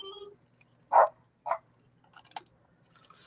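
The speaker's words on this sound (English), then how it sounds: "you hear the dogs" Two or three short barks from dogs in a quiet room, spaced apart, with a faint electronic ding at the start and another small sound near the end.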